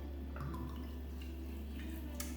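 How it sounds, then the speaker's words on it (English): Supermarket vodka poured over blue vervain plant material for a tincture, a faint, soft liquid trickle with a few drips over a steady low electrical hum. "you're going to pour your vodka onto your"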